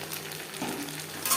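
Broad beans (shim) fry in a pan for shim chorchori, producing a brief, fairly quiet, steady sizzle with a slight stirring flare near the end.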